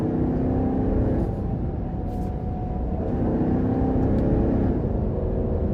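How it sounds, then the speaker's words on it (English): Heard from inside, a 2023 Dodge Durango R/T with a 5.7-litre V8 accelerates, its exhaust a steady, deep rumbling roar that holds strong throughout. "And then I love the exhaust sound. You put your foot into it."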